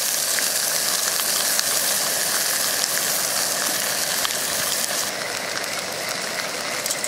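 Garlic and food sizzle steadily on a grill at a campsite, a dense continuous frying hiss close by that carries through the whole stretch with no one talking.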